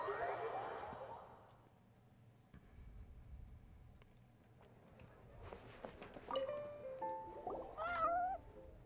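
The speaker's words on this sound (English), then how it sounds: "Kitties, I will not be shocking you this time." Cats meowing in the video game Genshin Impact, with several mews and a rising cry near the end over quiet game ambience and footsteps, faint to moderate in level, and brief speech.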